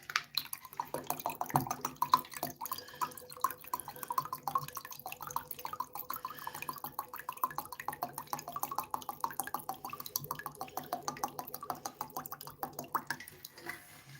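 Water drips and trickles from a jug in a steady, fast patter of small splashes that continues for about fourteen seconds, close and fairly quiet.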